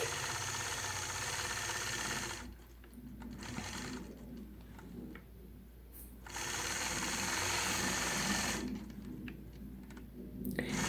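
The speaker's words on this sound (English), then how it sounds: "after I've done my markings, then I go through and stitch out the foundation of that design" A sewing machine stitches a scalloped quilt border through lower-loft batting, its steady motor hum running in long stretches that stop and restart, with short pauses between sewing runs and no voices.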